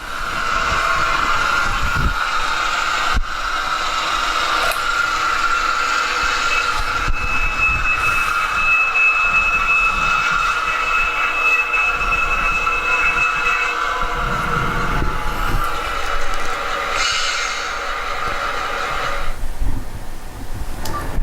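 A model railroad locomotive runs steadily along the track, its continuous mechanical hum and faint whine holding for most of the stretch before easing as it brakes toward a stop; no one speaks.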